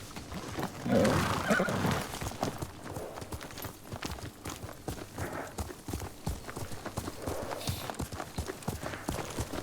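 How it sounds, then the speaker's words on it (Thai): A horse gallops in the samurai video game Ghost of Tsushima, its hooves beating a steady rapid clip-clop rhythm throughout, with a short whinny near the start. "เราจะไปขี่ม้ากัน"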